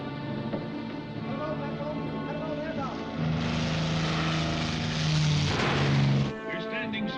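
A propeller-driven aircraft passing overhead off the coast of Montevideo in a 1956 film. A steady, loud engine drone swells midway, then cuts off sharply near the end.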